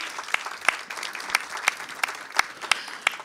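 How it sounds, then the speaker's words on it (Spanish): Sparse, quiet clapping from an audience at a lecture on care work and the social economy, a few distinct claps ringing out at irregular intervals without talk. "Denle otro aplauso, por supuesto que sí."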